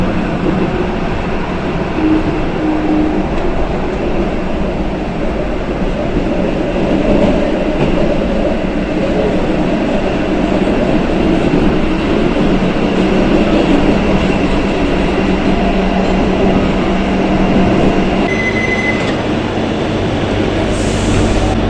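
A Barcelona mainline train runs with a loud, continuous rumble and faint rhythmic wheel clatter, keeping a steady roar throughout before a brief higher squeal near the end.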